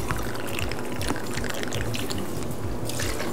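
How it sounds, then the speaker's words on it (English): Vodka poured over a glass filled three-quarters with ice while mixing a vodka gimlet, a steady close splashing trickle with faint clinks lasting a few seconds. "Pour it in, perfect."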